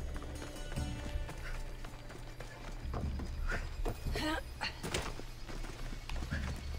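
A horse gallops at a steady rhythm in Assassin's Creed Odyssey, its hoofbeats drumming close and continuous under a low, steady rumble, with someone talking over it.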